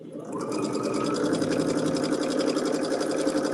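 Sewing machine stitching fabric for a quilt sew-along, starting up then running in a fast, steady mechanical whirr with rapid regular clicks, close and alone without talk.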